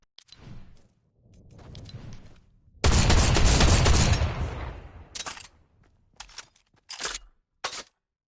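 A drum shotgun in Fortnite fires in a long roaring blast followed by several short, sharp shots with brief silences between, loud and close, no voices over it.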